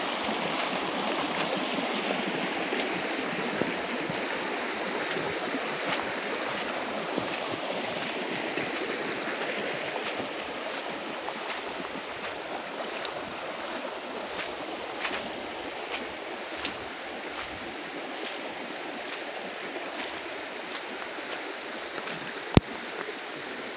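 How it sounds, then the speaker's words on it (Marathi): A stream flows through a Konkan bamboo grove, a steady soft rushing and trickling that holds even for the whole stretch, with one sharp click near the end and no talk. "हे बघा पाणी."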